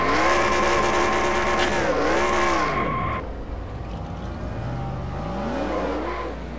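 A race car in the NR2003 racing game crashes at Bristol: a loud engine roar with squealing tires drops away abruptly, leaving a lower, wavering engine drone.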